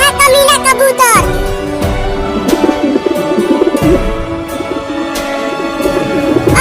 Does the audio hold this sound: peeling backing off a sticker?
no